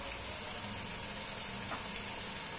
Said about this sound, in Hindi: अब इसको मैं तकरीबन 3-4 मिनट फ्राई करूंगी।